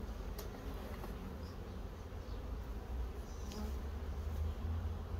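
Honeybees swarming busily at a freshly opened hive entrance, a dense continuous buzzing drone close by, fairly quiet and steady throughout with no speech.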